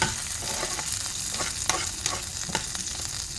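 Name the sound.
curry leaves and Byadgi chillies frying in oil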